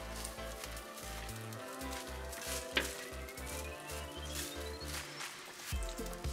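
Cooked basmati rice being stirred and mixed in a pan for jeera rice, soft scraping and stirring over a faint sizzle, with steady low background music under it.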